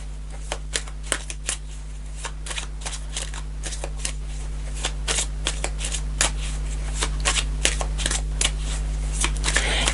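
Tarot cards are shuffled close by in a quiet room, a series of quick riffling flutters and crisp card snaps repeating irregularly across ten seconds.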